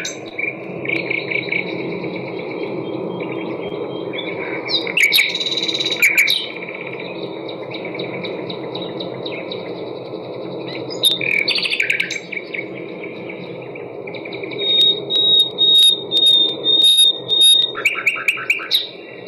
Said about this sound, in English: Here's the song of the nightingale.